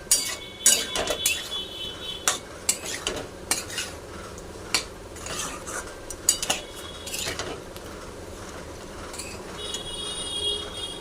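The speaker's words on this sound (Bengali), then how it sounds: "আলুটাও ভালো করে কষিয়ে নেব মশলার সাথে" Potatoes stir-fried with spices in a pan for a pumpkin and potato curry, with a dense run of close metal scraping and clattering strokes over a steady frying sizzle.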